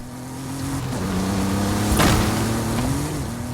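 A Maserati Levante driving in a video game, a steady engine drone with a shifting pitch and a brief bump midway, loud and continuous, no talk.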